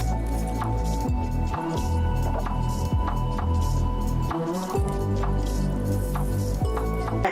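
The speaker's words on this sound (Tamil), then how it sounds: "இப்போ இதில் நம்ம சுகர் சொல்யூஷன் ஊற்றினா நம்ம காட்டன் கேண்டி ரெடி ஆகிடும்." Sugar solution is poured into a homemade cotton candy machine, with a steady motor hum and soft intermittent drips and taps close by.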